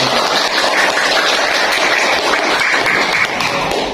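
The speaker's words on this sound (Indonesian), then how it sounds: "tepuk tangan buat depan" Dense, steady clapping from a class of students close by, a continuous patter that carries on throughout without talking.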